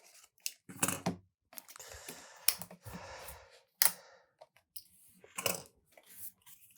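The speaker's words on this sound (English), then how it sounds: "We'll take the clips off." Binding clips come off a Japanese stab-bound book one after another: sharp plastic clicks and snaps scattered irregularly with brief handling rustles, close and fairly quiet.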